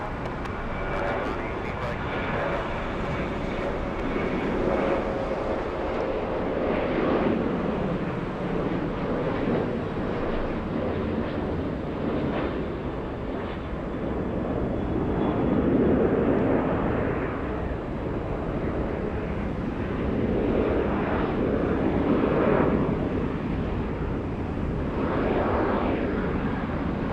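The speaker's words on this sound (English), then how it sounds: "Delta 2067 on after Ronnie, runway 8 right, clear for takeoff" Delta airliner on takeoff from runway 8 right at Atlanta Hartsfield-Jackson, a broad continuous jet roar that swells and fades over nearly half a minute, with wind buffeting the microphone and radio talk from air traffic control over it.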